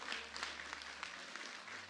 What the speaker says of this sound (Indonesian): Oke, teman-teman, saya kira cukup, tepuk tangan semuanya.